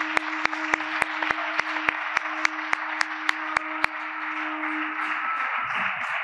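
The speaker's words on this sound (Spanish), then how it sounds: "cuando aplaudimos acopla" An audience claps in steady rhythm while a sustained microphone feedback tone rings underneath, the tone lingering briefly once the clapping stops.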